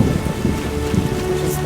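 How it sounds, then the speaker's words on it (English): Steady rain falls in the video game The Witcher, a dense, continuous hiss of droplets that fills the short stretch at an even, fairly loud level with no talking. "Probably because it's raining, the game is forcing me to"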